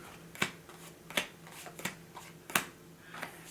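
Playing cards dealt one at a time onto a table to form a starting deck of seven pass cards for a board game, giving crisp separate slaps and flicks at an uneven pace, close and fairly quiet with no talk.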